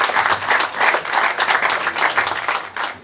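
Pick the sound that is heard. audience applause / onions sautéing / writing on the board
audience applause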